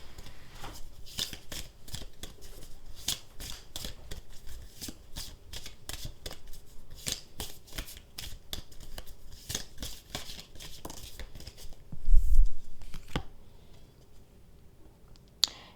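Tarot cards are handled and laid out in a close, dense run of crisp flicks, snaps and slides on a surface, with a louder thump near the end and then quiet, no voices.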